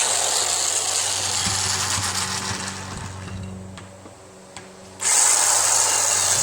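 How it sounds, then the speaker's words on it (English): Electric impact wrench with a 5/8 socket working on a pulley of a Yardman MTD 4WS lawn tractor with a Briggs 15HP OHV engine, running in a steady buzzing whir that eases off before a final loud burst. "I got my electric impact out."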